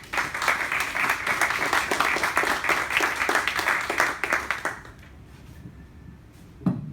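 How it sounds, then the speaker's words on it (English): Audience applause at a small business technology lunch-and-learn event, a steady dense clapping from a room of people that holds for several seconds, then cuts off and fades into near quiet with one late clap. "help me give them a round of applause"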